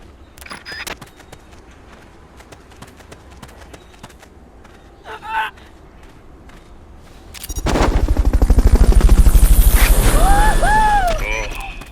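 Fulton recovery helicopter in Metal Gear Solid Peace Walker, a sudden loud rotor roar that swells in after a stretch of quiet game noise and sustains to the end, with whooshing tones over a heavy low rumble.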